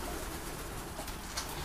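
Pigeons coo softly in a loft during a spell of rainy weather, with faint, low murmuring calls over a steady background hiss and no talking.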